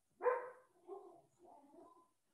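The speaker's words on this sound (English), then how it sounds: "Sorry, I'm closing my door because my dogs are going crazy." A dog indoors barks three times, one sharper bark followed by two softer, lower woofs, muffled and somewhat distant in a quiet room.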